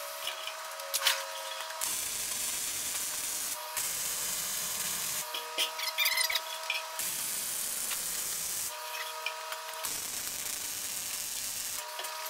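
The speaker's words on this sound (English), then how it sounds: "I got my MIG welder out, and I'm going to tack these things all together" A MIG welder tack welding metal rails onto a wagon gives off bursts of steady crackling hiss, each lasting a second or two and separated by short pauses, close and fairly loud with no talking.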